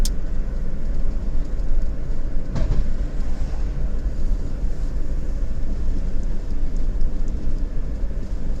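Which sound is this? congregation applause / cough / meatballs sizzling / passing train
passing train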